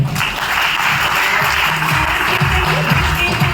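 A loud, dense round of audience applause fills an achievers' meeting of a DTM company in Meerut, India. The clapping is continuous and crowded from start to finish, with faint voices in the background.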